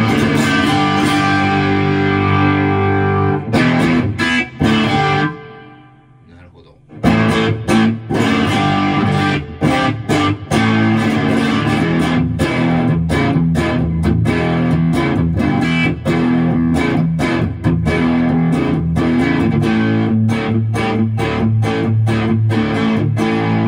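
Electric guitar played on the rear humbucker through a Milkman Sound The Amp pedal amplifier, loud, driven tone with chords and single notes, a short pause near the middle, no talk.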